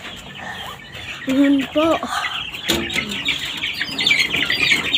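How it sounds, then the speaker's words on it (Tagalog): Backyard chickens, including a bantam, cluck and squawk in short bursts close by over a busy outdoor background, with a person speaking briefly. "ito po ang mga manok namin"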